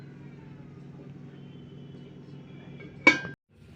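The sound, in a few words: covering the hot pot with its lid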